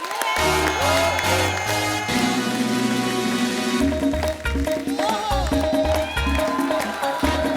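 A studio audience at a comedy talk show applauds to welcome a film director, with steady dense clapping under loud stage music throughout.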